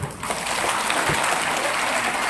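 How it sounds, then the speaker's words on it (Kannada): A crowd claps, a dense, steady wash of applause lasting the whole moment, with no voices over it. "ಚಪ್ಪಾಳೆ"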